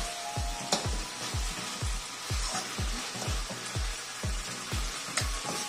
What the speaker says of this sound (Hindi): सब्जी का मसाला भुने तो उसे अच्छी तरह से भुने, गोल्डन ब्राउन होने तक